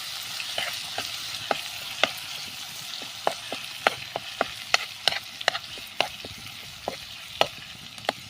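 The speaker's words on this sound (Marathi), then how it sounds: "यामध्ये आपण जे वाटण केलं होतं पालकाचं ते टाकून घेऊया. तर ते देखील आपण थोडंसं परतून घेऊया." Spinach paste being sautéed with pieces of fried fish in a pan, a steady soft sizzle broken by sharp crackles and spatula scrapes at irregular intervals, close and moderately loud with no talking.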